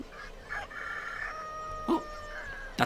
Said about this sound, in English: I heard a cock-a-doodle-doo.